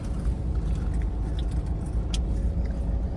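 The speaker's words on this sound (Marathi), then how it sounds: "भरपूर ट्रॅफिक आहे." Heavy road traffic in Kashimira, Bhayandar, on the way toward the Mumbai–Goa highway: a steady, dense rumble of many cars and vehicles that stays loud and unbroken throughout, with no talking.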